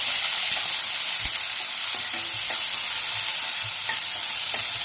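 Shallots, garlic and tomato sautéing for a village-style crab gravy, a loud continuous sizzle with occasional soft stirring knocks, close up and without speech.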